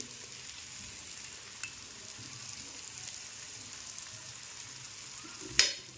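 Grated bottle gourd thalipeeth cooks on an oiled griddle with a faint, steady sizzle throughout, broken by a soft tap around the middle and a sharper clink near the end.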